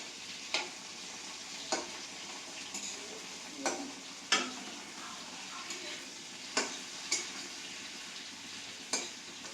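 Garam masala and onion paste fry in oil left from cooking prawns, with a steady sizzle broken by regular scraping stirs and occasional clinks of a spoon against the pan.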